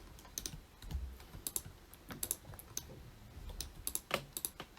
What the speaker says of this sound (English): Apologies if you can hear the mouse clicking a lot.